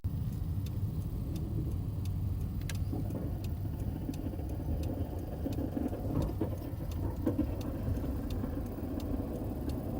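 A Subaru Impreza with a failing engine drives along at low speed, a steady muffled engine drone inside the car with faint ticking and light rattles over ten seconds.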